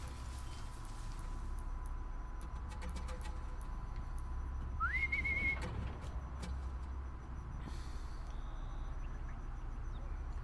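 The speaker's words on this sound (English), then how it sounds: "Can I whistle at one of them?" A character whistles in the Horizon Zero Dawn video game: a single brief rising whistle that holds steady for under a second, heard over a constant low ambient game rumble with no talk.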